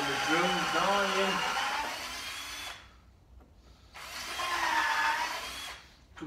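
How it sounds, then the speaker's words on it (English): A failing cordless drill, its battery dying, bores holes in wood for shelving in two close bursts separated by a short pause, the motor whine wavering as it strains, with someone talking over the first burst. "Well, the drill's dying."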